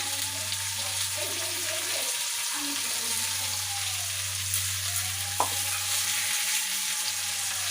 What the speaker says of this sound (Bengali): এইখানে আমি আদা আর শুকনো লঙ্কা হাফ ডাস্ট করে রেখেছি পুরো না হাফ করেছি এটা দিয়ে দিচ্ছি